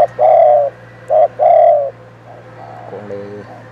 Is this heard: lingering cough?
no